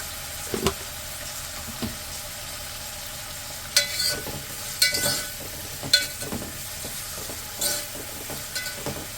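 Salted vegetables sizzle in a pan as a base for chicken curry, with soft scraping stir strokes and occasional clatters over a continuous quiet frying hiss.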